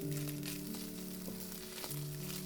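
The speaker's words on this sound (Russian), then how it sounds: "Хорошо обжариваю фарш до красивого румяного цвета." Minced meat frying in a pan for a potato-and-mince dinner, giving a steady close sizzle and crackle with a few brief stirring scrapes throughout.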